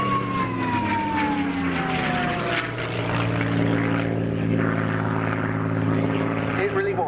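P-51 Mustang fighter flying past at an RAF Cosford airshow, a loud steady piston-engine drone with shifting pitch as it passes, under continuous talk.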